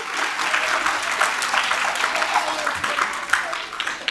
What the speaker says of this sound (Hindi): और एक बार ताली हम नए नीड के बच्चों के लिए बजाएंगे